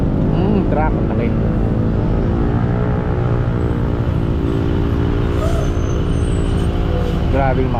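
Heavy trucks pass on a road, rumbling and droning loudly and steadily close by, with a rider speaking over the traffic noise throughout.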